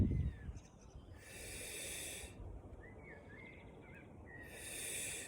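A person breathing in and out during a Pilates exercise, slow audible breaths alternating with quiet pauses, soft and close with faint background hiss.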